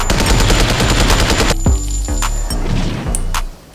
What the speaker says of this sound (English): So the attack 1 is sliding barrage.